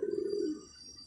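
A pigeon gives a single short, low, faint coo in a loft, soft and close, fading quickly into quiet.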